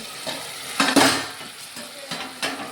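Chicken being sautéed in a pan during home cooking, with a few sharp scraping strokes of a spatula against the pan over a low, steady sizzle.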